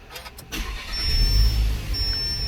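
A 2019–2025 Audi Q3 engine starts at the push of the start button: a brief crank, then the engine catches and settles into a steady low idle close by, with a faint chime tone sounding over it.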